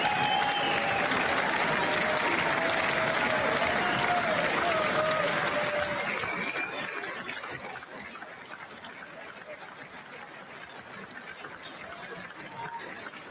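Sustained applause from a large audience at a State of the Union address, loud and dense for about six seconds before easing to a lighter, steady patter that continues to the end.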